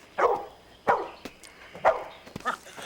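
Four short, close barks at a slow, uneven pace with quiet gaps between them, each a crisp bark from a dog.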